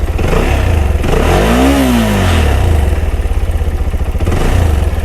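A CFMOTO 300SR motorcycle engine idles loudly and evenly nearby, then rises in one quick rev before settling back to a steady idle.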